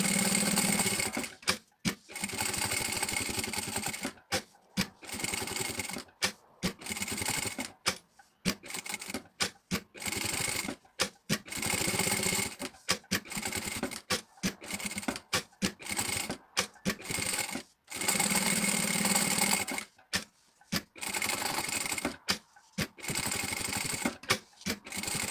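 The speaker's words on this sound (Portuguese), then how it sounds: "Vamos passar uma costura aqui à largura do calcador," A sewing machine stitches a seam around a piece of fabric in repeated fast mechanical runs, each burst of needle clatter broken by short pauses, close and steady throughout with no talking.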